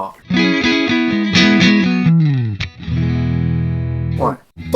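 Electric guitar played through an amp simulator plugin with delay and reverb switched on, loud sustained chords and ringing notes with echoing tails, continuous across the phrase.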